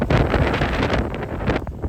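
A 25 mph wind gust during a San Antonio hailstorm buffets the microphone in a close, loud, roaring blast that pulses unevenly and eases slightly near the end.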